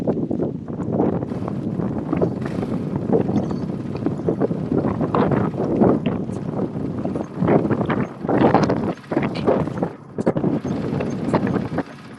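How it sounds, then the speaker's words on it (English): Strong desert wind buffeting the microphone in heavy, uneven gusts at the Abu Dhabi Desert Challenge rally, a constant rumbling roar that swells and dips throughout. "it's really windy out there"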